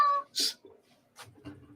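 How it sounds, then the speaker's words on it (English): A cat meows in a few short, separate cries, the first bright and clear, then fainter, rougher calls spaced over a second or so in a quiet room. "Sounds like a cat."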